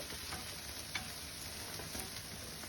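Egg karam dosa roasting on a low flame gives off a faint, steady sizzle with a couple of tiny crackles, quiet and unbroken throughout.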